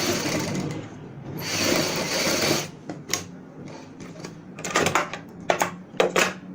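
A sewing machine stitching fabric for a high-neck kameez neckline, running in short rattling bursts separated by pauses and handling clicks, loud and close.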